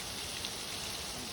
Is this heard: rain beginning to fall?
yes